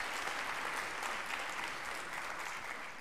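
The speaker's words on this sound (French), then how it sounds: "Applaudissons Camille." Audience at a talk on dyslexia research applauding a speaker, steady dense clapping throughout, evenly loud with no talk over it.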